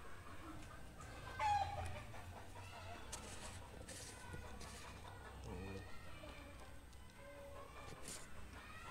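A brooding bantam hen sitting on eggs clucks softly in a farm setting, with a few scattered low clucks over faint background noise and other birds, while a person talks quietly nearby.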